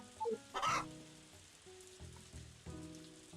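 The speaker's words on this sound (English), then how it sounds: "let's check on our chickens" Chickens clucking in the farming video game Harvest Moon A Wonderful Life, a few short faint clucks at the start followed by soft game background music, no talk.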